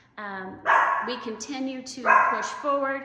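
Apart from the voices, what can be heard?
dogs barking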